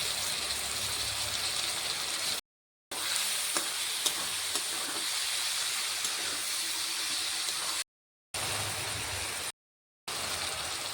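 Chopped cucumber and vegetables frying in a pan with tomato, coriander leaves and turmeric give a steady, close sizzle and soft bubbling that runs throughout, broken by a few brief edit gaps of silence.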